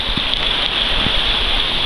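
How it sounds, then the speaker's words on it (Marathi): Heavy monsoon rain in rural Konkan falls steadily as a dense, even hiss, close and constant throughout, with a few soft thuds of drops beneath it. "आता पाऊस बघ किती लागतोय तो एकदम बेकार बघ"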